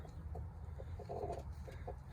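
Soft, intermittent clucking from chickens comes in short low bursts, faint and somewhat distant over a steady background hum.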